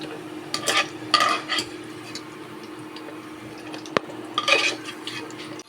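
Spiced chicken breast pieces frying in oil crackle quietly in a pan, with a few short bursts of stirring and clinking utensil sounds over a low steady hiss and a sharp knock near the end.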